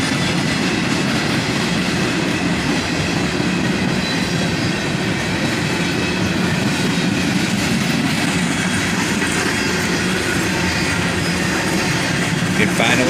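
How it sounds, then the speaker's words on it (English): A long CSX freight train rolls steadily past up close, its mix of cars including old Chicago Northwestern rolling stock rumbling and clattering continuously over the rails with no break. "Getting towards the rear end of the train now, and check out all these old Chicago Northwestern cars mixed in."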